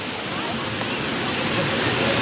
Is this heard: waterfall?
yes